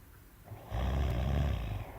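A man asleep gives one long, deep, rasping snore that swells after a quiet breath and fades out over about a second, close and alone.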